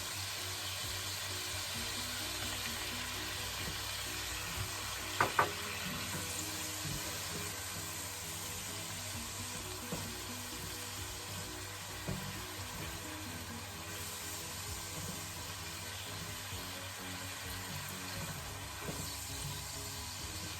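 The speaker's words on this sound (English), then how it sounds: "I've got the white part of the spring onion and garlic in there." The white part of spring onion and garlic frying in a pan for savoury rice gives a steady, soft, close sizzle, with a couple of brief clicks early on and no voices.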